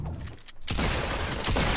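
Gunfire in a shooter video game: a sudden loud burst of shots that holds as dense, noisy cracks, with a second burst near the end.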